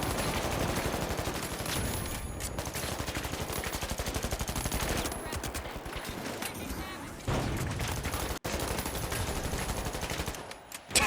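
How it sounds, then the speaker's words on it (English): Sustained automatic fire from an ARN gun sprayed down a hallway in World Tour, a dense rapid rattle running nearly the whole time with brief breaks, close and loud. "Just shooting down a hallway that worked so well."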